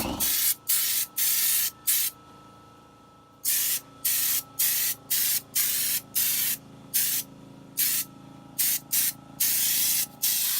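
Spray paint going on as a second coat over an Expedition Raptor, heard as about fifteen short hissing bursts of roughly half a second each in an uneven rhythm, close and clear with no voices.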